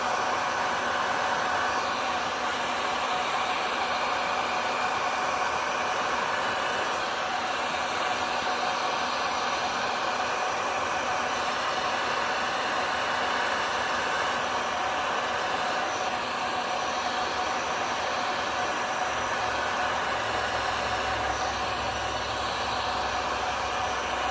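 A heat tool blows steadily over alloy inks on a glitter base, a constant close whooshing hiss of hot air that holds even and unbroken from start to finish.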